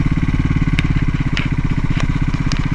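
CCM Bobber motorcycle engine runs steadily up close, a loud, even throbbing rumble with faint ticking clatter, no voices over it.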